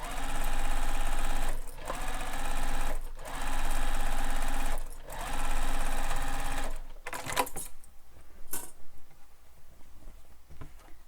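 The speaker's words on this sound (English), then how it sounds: "we're going to stitch this together using the seam allowance given in the pattern" A sewing machine stitches a crossbody bag seam in three steady bursts with short pauses between them, close and loud, then stops and gives way to quieter handling noises of fabric.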